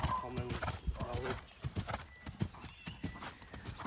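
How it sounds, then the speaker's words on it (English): A horse walks along with steady clip-clopping hooves, giving short snorts and a brief whinny-like snort as it goes, close by, while a person talks quietly at times. "he does that kind of little snorting noise as he goes along"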